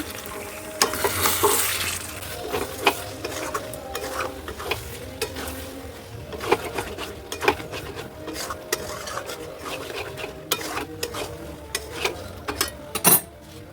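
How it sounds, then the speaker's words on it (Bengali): Mutton being sautéed and stirred in a pan gives a steady sizzle under frequent scraping and clinking of a utensil against the pan throughout. "আমার এখানে মাটন কষানো চলছে"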